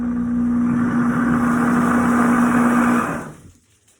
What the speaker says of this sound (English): I want to show you our soup because it's bubbling now.